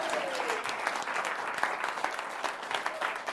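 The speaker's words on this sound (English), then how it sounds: "give yourselves a huge round of applause" Applause breaks out from an audience after a card magic trick at a storytelling and magic show, a dense patter of many hands clapping with a few sharper claps standing out, fairly distant.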